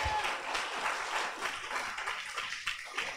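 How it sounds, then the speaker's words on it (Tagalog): A church congregation applauds at a service, a dense wash of many hands clapping loudly and steadily for a few seconds, nearby and filling the room. "malakas sa palakpak sa ating Panginoon."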